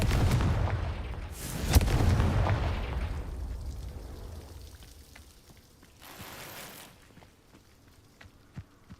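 Confringo fire spell blasting in Hogwarts Legacy, a heavy booming explosion at the start with a second burst soon after, then a rumbling fade and a smaller crackling blast later on, loud and close with no voice.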